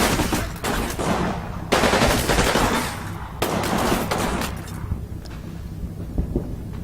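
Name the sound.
gunfire in video game Combat Mission Final Blitzkrieg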